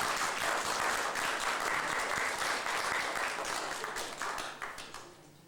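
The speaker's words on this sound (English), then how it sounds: "Let's give her a welcoming round of applause." An audience gives a welcoming round of applause to a performer opening a comedy and poetry show, with full, dense clapping that holds steady and then tapers off and fades out toward the end.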